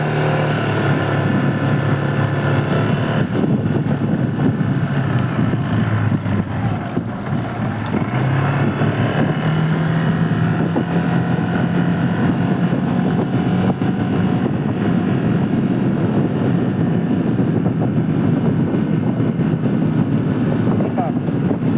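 A motorboat engine drones steadily on the water during a cast-net fishing trip, with wind buffeting the microphone and people talking over the engine now and then.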